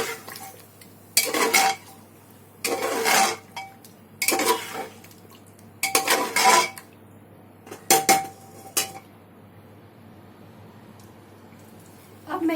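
Masala paste of ground seeds and poppy seed powder being fried and stirred in a pot for chicken biryani, with repeated bursts of metal spoon clatter and scraping against the pan in an irregular rhythm, close by.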